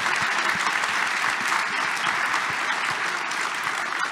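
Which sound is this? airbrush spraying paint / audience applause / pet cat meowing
audience applause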